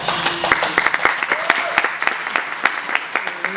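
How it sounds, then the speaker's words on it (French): An audience at an AIESEC conference applauds the organizing committee. Dense, lively clapping from a room full of people fills the whole stretch, close and fairly loud. "il faudrait applaudir tout le comité d'organisation d'AISEC"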